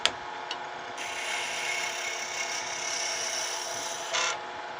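A wooden pen blank spins on a lathe while being sanded, giving a steady, close, continuous rasping hiss for several seconds with a brief bump in intensity near the end.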